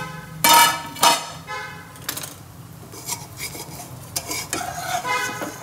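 Sarva pindi, a Telangana rice-flour flatbread, sizzling in a pan as it is flipped, with loud scraping and clattering bursts from a spatula over a steady frying hiss; no talk.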